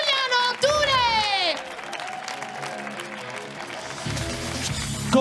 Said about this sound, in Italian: E vi chiedo di continuare questo applauso per l'MC della serata, Giuliano Ture!